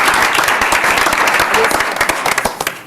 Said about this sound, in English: I don't know if we can round of applause for that